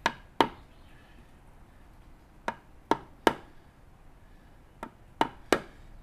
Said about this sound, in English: I'm just going to deepen the knife wall very slightly to give myself a bit more to work with.